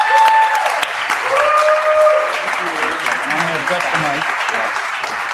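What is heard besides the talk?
conference audience applause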